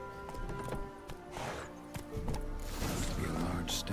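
A horse trots along in The Witcher 3, with rhythmic hoof clip-clops mixed with game sounds and a brief snort, while someone talks over it.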